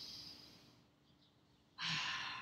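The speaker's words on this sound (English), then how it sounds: "Take one inhale and exhale right here." A slow yoga breath during a stretch: a soft, airy inhale fades out, then after a short pause a louder, breathy exhale follows, close and alone.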